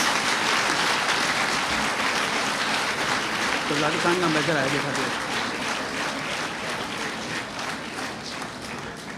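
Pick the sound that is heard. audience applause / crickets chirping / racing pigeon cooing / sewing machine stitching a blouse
audience applause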